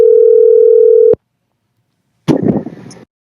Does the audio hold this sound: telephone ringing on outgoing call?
yes